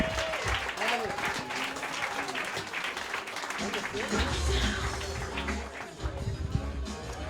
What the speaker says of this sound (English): Clap it up for Evan Williams